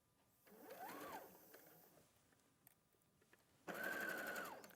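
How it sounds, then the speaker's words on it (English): A sewing machine stitching fabric runs in two bursts, a rising and falling whir first and then a louder steady hum near the end, with a quiet pause between them. "Don't sew over pins, and definitely don't sew over fingers."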